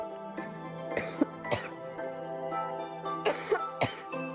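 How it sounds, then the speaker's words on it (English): Several sharp, loud coughs and throat-clearing bursts from one person, close up, coming in two clusters with a steady low hum underneath. "I've been holding back that cough this entire time"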